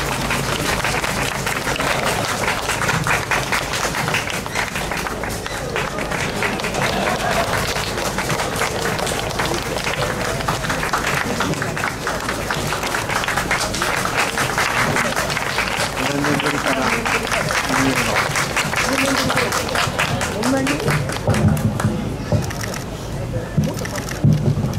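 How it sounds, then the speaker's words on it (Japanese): Sustained applause from a large audience fills a hall as panelists are welcomed to a diversity discussion at a youth chamber event in Fuchu, Tokyo, a steady dense wash of clapping with faint voices underneath. "皆様どうぞ大きな拍手でお迎えください。"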